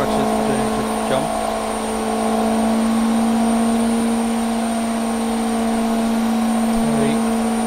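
A high-powered engine of over 1,600 horsepower holds a loud, steady drone at around 7,000 rpm, a constant sustained roar with no pauses.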